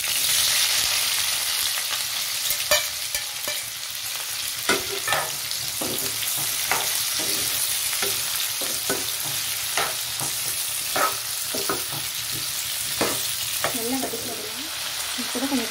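Onions sauté with green chillies in hot oil for a chicken gravy: a constant crackling sizzle broken by repeated scraping stirs of a spoon against the pan, close and fairly loud throughout.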